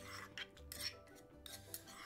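Noodles, milk and cheese stirred together in a bowl with a utensil, soft scraping and clinking strokes repeating in a quiet kitchen, close and faint with no talk.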